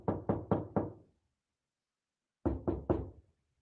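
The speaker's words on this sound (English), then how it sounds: "Yeah, play the knock." A knocking sound effect plays as a quick run of four knocks on a door. After a pause come three more knocks, each one sharp, close and clear in otherwise silent surroundings.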